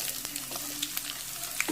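Onion is added to a pan of reddened garlic and coconut frying for idli sambar, giving a soft continuous sizzle with faint scattered clicks of stirring, quiet and without speech.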